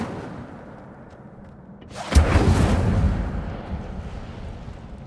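A fiery whoosh bursts out near the middle as the Incendio spell is cast in Hogwarts Legacy, a loud roaring flare with a low boom that slowly fades, standing alone over quiet ambience.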